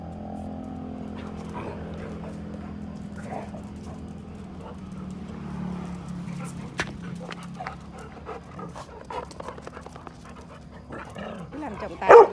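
Two dogs wrestling up close, with steady panting, scuffling and occasional whimpers and yelps through the clip, a sharp burst near the end, while people talk in the background.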